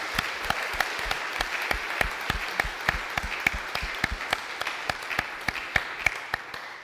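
Church congregation applauding during a sermon, a steady patter of many hands with sharp, evenly spaced claps standing out, moderately quiet and lasting throughout.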